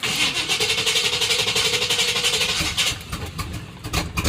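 A truck engine fitted with a homemade cold air intake cranks and fires up, running loud and rough close by before the revs drop and settle unevenly toward the end.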